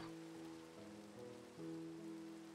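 Steady rain in a modded Minecraft game hisses over a soft, sustained musical drone, with no voices and little change in level.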